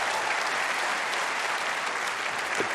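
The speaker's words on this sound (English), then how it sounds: "Are they going to keep the applause going while he's clearing up?" A snooker match audience applauds a century break with loud, dense, sustained clapping that keeps going evenly from start to finish, with no voice over it.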